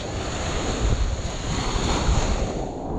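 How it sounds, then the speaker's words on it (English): Surf rolls onto the sand at Playa Central beach on Isla Mujeres, a steady close wash of breaking waves mixed with gusty wind rumble across the microphone, with no voices. "We're at the beach."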